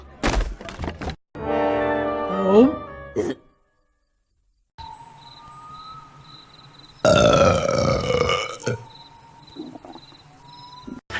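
A female cartoon character lets out several loud, drawn-out burps, some croaky and some rising in pitch, broken by short pauses and mixed with bits of cartoon voices and sound effects.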